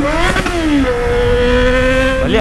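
A Yamaha XJ6 motorcycle engine revs hard and loud up close, with a continuous high-pitched whine that drops and then holds steady before climbing again.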